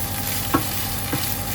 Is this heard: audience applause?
no